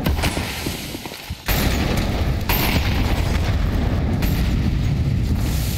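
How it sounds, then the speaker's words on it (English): Incendiary grenades burn during a Counter-Strike match between FaZe and M80 at IEM Dallas 2024, a dense roaring crackle broken by sharp bursts and booms throughout. "look at these cute little incendiaries"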